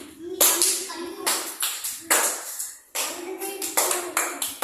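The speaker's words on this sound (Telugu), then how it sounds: "క్లాప్స్" Children in an Anganwadi preschool classroom clap together in several loud bursts of rapid, ragged handclaps separated by brief pauses, close and echoing in the room.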